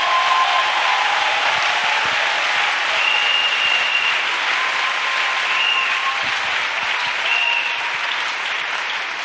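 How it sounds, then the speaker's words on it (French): A church congregation claps for Jesus during a bilingual French-English service, with dense, sustained applause filling the room at an even level and a faint crowd murmur beneath. "Let's clap for Jesus."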